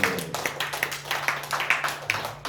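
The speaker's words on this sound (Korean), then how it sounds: "박수 한번 해주시기 바랍니다" Sparse clapping from a church congregation at a gospel worship service, a handful of separate claps in an irregular rhythm, moderately faint, over a low steady hum.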